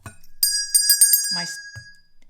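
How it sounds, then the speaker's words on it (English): A bright, tinny bell rings out with a sustained metallic tone, struck a few times in quick succession, close and clear, with a short stretch of talk layered over it. "My divine intervention cards always get a ring of the bell"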